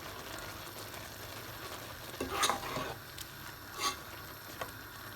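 Spices being stirred into a urad lentil (dal mash) curry in a pot, with a faint background sizzle and two short louder scraping stirs of a spoon, no talking.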